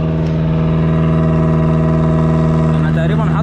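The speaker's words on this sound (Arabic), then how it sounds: "تعالوا اما نبص على الشكمان وانا شادد الشفاط" A Fiat 128 engine runs steadily, heard close at the exhaust pipe with a constant droning hum while the throttle is held open.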